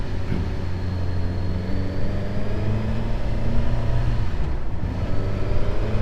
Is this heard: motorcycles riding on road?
yes